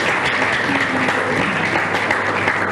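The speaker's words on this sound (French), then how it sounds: "Les applaudissements." An audience at a show applauds in a full, steady roar of clapping, with a faint voice and some background tones showing through the noise.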